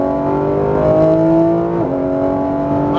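A Porsche 991 GT3 RS flat-six pulls hard at full throttle on a Las Vegas track, its loud, rising engine tone climbing steadily and then briefly dropping as it shifts before pulling on again.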